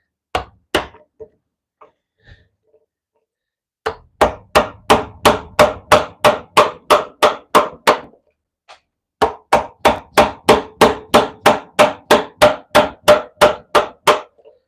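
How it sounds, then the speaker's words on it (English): A wooden mallet strikes a sharp chisel during woodcarving. A few scattered taps give way to two long runs of steady, evenly spaced sharp knocks, close and loud, with no voices. "I've been gripping way too hard on this mallet."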